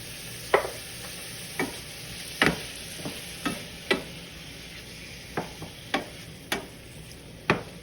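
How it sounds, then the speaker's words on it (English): Green peas and corn cook in a pan while a utensil stirs them, sounding like a faint steady sizzle broken by about a dozen sharp scraping strokes spaced roughly evenly. "After 30 seconds, add green peas and corn. Mix them well."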